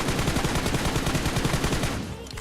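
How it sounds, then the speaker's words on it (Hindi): Continuous automatic gunfire in a shooting video game, a dense, loud stream of rapid shots aimed at a target, rattling without a break before tapering slightly at the end. "सेंटर में फायर करते हैं"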